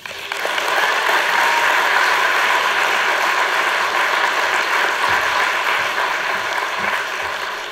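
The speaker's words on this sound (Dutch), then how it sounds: "Ontvangt u haar met al het applaus dat u in principe in uw handen heeft." An audience at a literary evening applauding to welcome poet Meerle Wittekoek, steady, dense clapping from a large crowd that swells quickly and holds at an even level throughout, fading slightly at the end.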